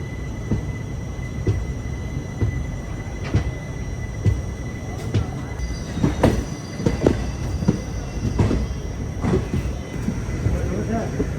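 A passenger train pulls out of Renigunta Junction, its wheels rolling and clacking on the rails with recurring squeals and knocks from the cars, heard steadily from on board.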